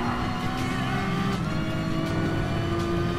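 A Ferrari LaFerrari race car's engine roars loud and continuous at speed in Gran Turismo Sport, with a dense, steady drone and brief rising surges.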